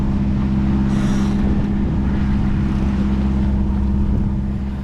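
A sailboat's engine drones steadily at sea on a Transpacific passage, a constant low hum with wind buffeting the microphone and a brief gust near the start.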